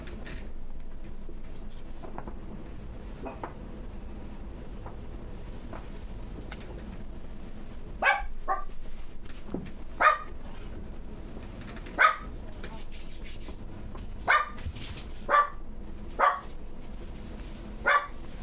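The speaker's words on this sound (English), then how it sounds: "My dogs are all kinds of wigging out." Several dogs bark in short, sharp bursts, starting around the middle and repeating at irregular intervals, fairly close over a steady low background hum.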